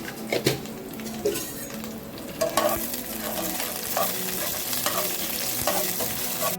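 Fenugreek, nigella and black mustard seeds frying in hot oil, a close steady sizzle with a spatula scraping and knocking against the pan several times.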